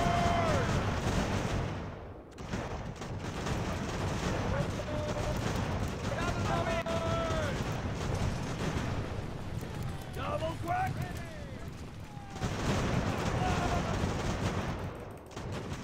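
Musket volleys in the game Ultimate General American Revolution: rolling, crackling gunfire and booming shots under steady battlefield din, with brief drops in level between bursts.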